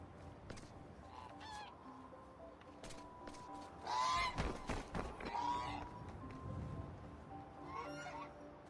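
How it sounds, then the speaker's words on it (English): A goose in The Unfinished Swan video game honking several times in loud, harsh bursts, with a brief scuffling run and some quiet background ambience between the calls. "Oh. Goose."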